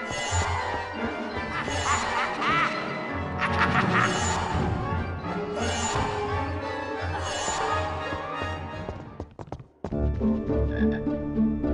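Chocolate frog croaking in a Harry Potter and the Philosopher's Stone video game, repeated loud croaks over game music with a brief drop near the end.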